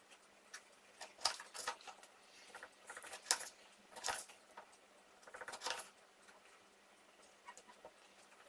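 Small knife slicing fresh tomatoes into rings on a tray, a run of soft, quiet cuts and taps spaced irregularly, with no talking.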